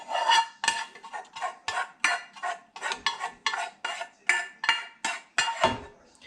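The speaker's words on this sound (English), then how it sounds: "Scrape out the pot as best you can." Metal utensil scraping out a soup pot in a run of quick, regular scrapes and clinks, close and clear with no talking.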